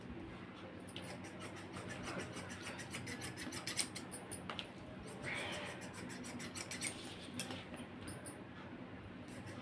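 Scissors snip through blouse fabric, the cutting done quickly, giving repeated close crisp cuts and rustling of cloth, moderately faint with no talking.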